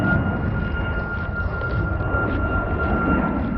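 An airplane passes overhead in Steveston, Vancouver, giving a steady, loud, broad engine roar with a sustained whine that stays constant through the whole stretch, with no talk over it.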